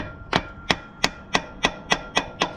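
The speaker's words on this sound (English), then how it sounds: "I'm just gonna tap this guy with a hammer gently." A hammer gently taps a part on a Ford 5.4 modular engine, eight crisp, evenly spaced metallic knocks close by, with no talk.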